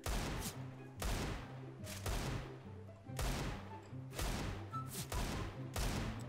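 Desert Eagle pistol shots in CS:GO fire in a slow, spaced rhythm, each heavy blast followed by a fading tail, about seven shots, loud and alone.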